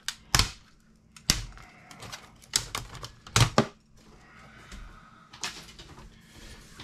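Plastic back panel of a flat screen TV being pried and popped off after the screws are out: a series of sharp, close snapping clicks at irregular intervals, with quieter rustling between them and no talking.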